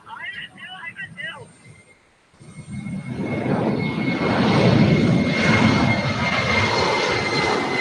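A jet airliner roars on a runway, its engines rising from quiet to a loud, sustained broadband rush that builds and holds, after a brief stretch where a voice talks over low rumble.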